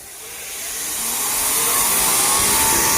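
A pressure washer at a self-service car wash spins up after the nozzle trigger is pressed, a broad motor whine and spray hiss rising steadily in loudness over a few seconds, then holding loud and continuous.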